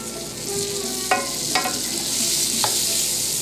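Steady sizzling hiss of butter melting and frying in a pan for meatloaf, continuous and close, with a few faint clinks over it.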